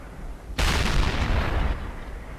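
A tank gun firing in World of Tanks, one sudden loud blast at the start followed by a rolling, decaying boom that fades over about two seconds, heard alone without talking.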